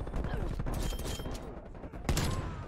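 Hand cannon gunfire in the video game Black Ops Cold War, a rapid series of sharp shots with mechanical clatter, fairly loud, ending in one heavier blast.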